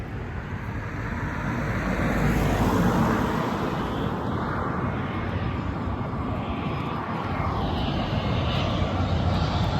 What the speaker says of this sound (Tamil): ஃப்ளைட் வருது.